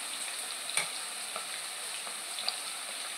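Garlic paste goes into onions already frying in a pan for chicken gravy, giving a steady, fairly faint sizzle with a couple of brief stirring clinks and no talk.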